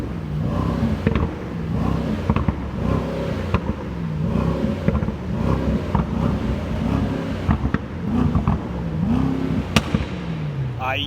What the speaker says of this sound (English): We will be listening to the sound of this crazy looking shooting brake made in Bottrop.